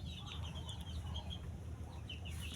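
Several farm broiler chickens cluck and chirp in repeated short calls over a steady low rumble, moderately close but fairly quiet.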